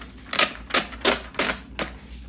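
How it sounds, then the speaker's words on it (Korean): A fetal monitor in a delivery room prints its paper record, giving five loud, sharp bursts of mechanical printing at an even pace with short quiet gaps between them. "기계를 이제 종료하고 종이를 쭉 출력한 다음에"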